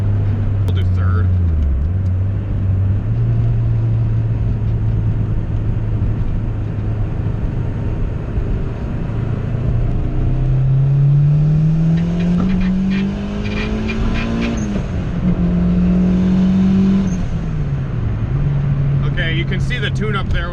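Turbocharged GSR-swapped Honda Civic engine pulling hard in third gear, a loud close drone rising steadily in pitch, dipping at shifts and climbing again, with talking over it.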